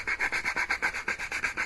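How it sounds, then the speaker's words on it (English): A sanding block is rubbed back and forth over plastic Stormtrooper hand guard plates, making steady rhythmic scraping strokes, about eight even passes in under two seconds, close and clear with no talking. "then use your sanding block"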